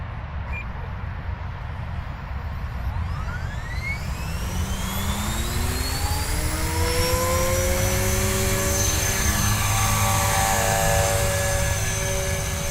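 An Align T-Rex 470LM Dominator RC helicopter with a MicroBeast Plus flybarless unit on its maiden flight, rotor and motor whine rising in pitch and sweeping as it spools up and flies close by, loud and steady throughout.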